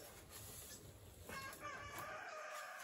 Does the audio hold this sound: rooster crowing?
yes